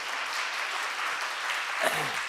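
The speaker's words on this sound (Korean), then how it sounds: "박수" A church congregation at a New Year revival service applauds its choir, a steady, even wash of many hands clapping together, with a brief low rumble and bump near the end.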